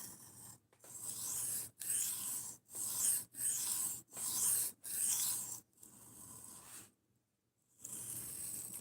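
Large Gerber folding knife with a 4-inch blade being sharpened along its bevel: a series of rhythmic, raspy strokes, about seven in a row with brief gaps between, close and fairly loud, then a short silence before one more stroke.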